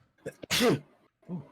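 A single close, sharp sneeze with a short intake of breath before it, followed by a faint murmur.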